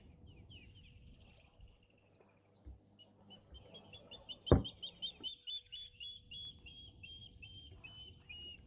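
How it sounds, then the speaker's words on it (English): A water thick-knee gives a long series of thin, descending whistled notes in the distance at a waterhole, over faint insect chirping and a brief sharp click. "That's a water thickney that's calling now"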